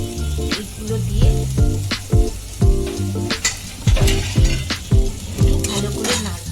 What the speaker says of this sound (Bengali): প্রথমে আমি একটু অলিভ অয়েল দিলাম। তেলটা গরম হতে তার মধ্যে একটু রসুন কুচি, আদা কুচি আর পেঁয়াজ